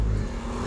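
A car engine revs in a short, steady burst as a learner driver works the clutch and accelerator while pulling off with the handbrake on a street, the motor droning loud and close.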